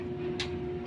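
A single light tap on the magnetic contactor of an air conditioner unit being checked for not cooling, a brief close click over a steady electrical hum.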